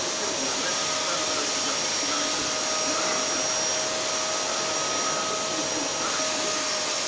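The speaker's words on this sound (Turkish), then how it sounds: "Bunun altını da süpür, televizyonun altını." Electric vacuum cleaner running on a home floor, a steady loud motor whine with a high tonal hum that holds unbroken throughout, close to the microphone.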